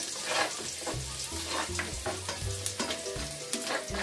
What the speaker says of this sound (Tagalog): Kung saan po nagpirito, doon niya rin po isutate yung bawang